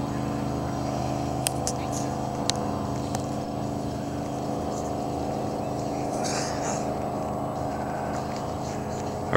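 A jet boat with straight pipes rumbles past near float homes, a loud steady low drone with a few sharp clicks and knocks over it.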